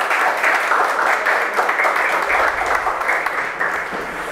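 Sustained applause from the audience at a municipal council special session in Criciúma honoring women, steady dense clapping filling the room for several seconds without pause.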